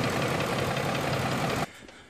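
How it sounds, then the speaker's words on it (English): A car engine idles with a steady, dense running noise and a faint underlying tapping. It stops abruptly near the end, leaving near quiet. "I don't think it did much for the tapping in the engine."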